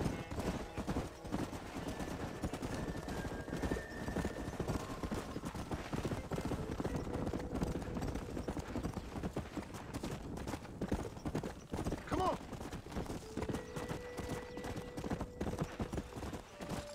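Horses in the Red Dead Redemption video game, with a steady rhythmic clip-clop of hooves throughout and a faint neigh partway in, set against low ambient background.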